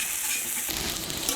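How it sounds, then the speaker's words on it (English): Garlic being stirred around a hot frying pan while making Irish lamb meatballs, a steady close sizzle and scrape that grows louder and fuller partway through, with no talking. "Stir that garlic around"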